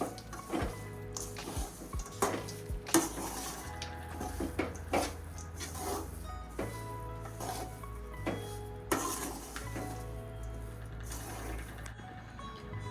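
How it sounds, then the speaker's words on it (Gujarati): A spoon repeatedly scrapes and stirs through churma ladoo mixture with raisins in a pan, with irregular clinks and scrapes over a steady low background hum. "આપણે બધું સારી રીતે મિક્સ કરી લઈશું"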